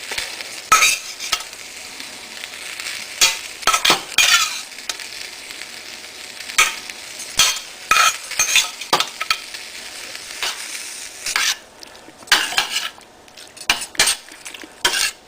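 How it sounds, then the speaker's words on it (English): A utensil stirs meat into simmering tomato sauce in a pot, giving repeated clinks and scrapes against the metal at an uneven rhythm over a soft background simmer. "Stir it in so the meat could get really, really tomatoey."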